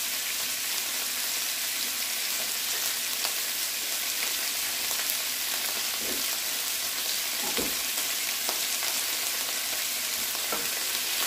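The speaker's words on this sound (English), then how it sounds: "This is just to get a nice brown, crispy texture on the steak before you let it simmer for 30 minutes." A steak sears and browns in a very hot pan before being simmered for gravy, giving a loud, steady, dense sizzle with scattered crackles throughout, with no voices.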